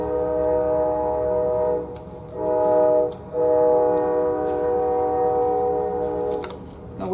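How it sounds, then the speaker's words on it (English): A train rumbles past nearby, its loud horn sounding in long, repeated blasts over the steady roar of the rails. "I'll wait a second for that train to go by"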